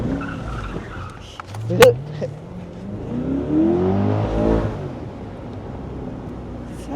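A Corvette Stingray V8 engine revving in Kochi: a sharp blip followed by a long rising and falling roar that fades out, with a brief spoken word near the start.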